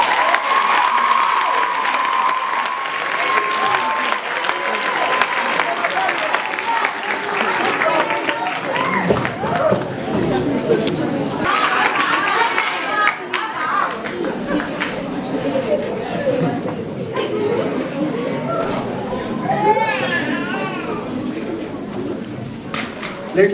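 Applause from a school crowd at a prize-giving, lively clapping mixed with cheers and chatter that thins and swells over about twenty seconds, with voices talking through it.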